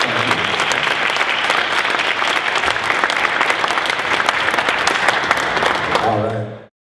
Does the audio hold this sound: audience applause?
yes